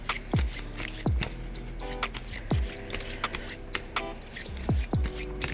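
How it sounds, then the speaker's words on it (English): Vegetable cards for the Delicious board game being riffle-shuffled by hand on a table, several quick, crisp flutters in sequence, close and alone without talk. "so let's shuffle them up real quick"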